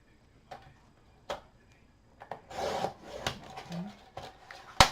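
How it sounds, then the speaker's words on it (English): A paper trimmer cuts cardstock for a Graphic 45 mini album craft project, with scattered light taps and clicks around a short rasping slide of the blade, close and quiet. "I'm just going to come in with my trimmer"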